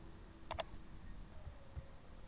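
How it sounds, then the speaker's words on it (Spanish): Two quick computer mouse clicks, close together, on a download button on a computer, crisp but brief against a quiet background hiss, with no speech. "le damos clic aquí"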